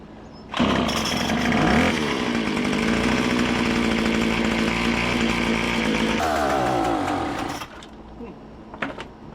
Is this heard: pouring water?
no